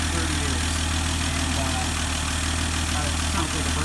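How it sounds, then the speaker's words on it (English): A 1971 Dodge Demon engine idles steadily in a smoky garage after sitting unrun for 30 years, a continuous loud, even rumble with no sputtering throughout. "And it sounds like a brand new engine. No sputtering, nothing."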